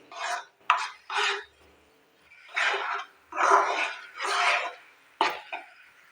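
A spatula scrapes a wok in repeated strokes while stirring a thickening potato sweet mixture, about seven rough swishes separated by short pauses, close up.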